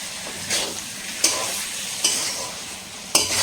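Chicken roast is stirred and mixed in a sizzling pan, a steady frying hiss broken by several sharp spoon scrapes at roughly even intervals.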